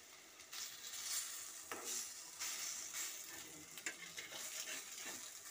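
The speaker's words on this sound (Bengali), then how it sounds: "তেল দিয়ে আমি এটাকে ভাজা করে নিচ্ছি মচমচে করে।" Gadal leaf fritters sizzle steadily in hot oil in a pan, with occasional stirring and utensil scrapes over the continuous frying hiss, heard up close with no talk.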